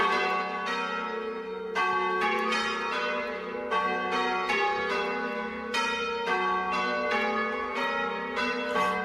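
Church bells ring a continuous peal, strokes tumbling in a steady, overlapping rhythm with bright ringing tones, fairly close and loud, with no voices.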